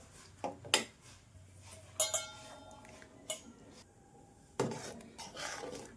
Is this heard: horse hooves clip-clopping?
no